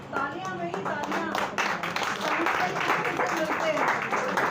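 Applause from the audience at a Hindi poetry gathering (kavi sammelan), steady clapping filling the clip while a voice talks over it.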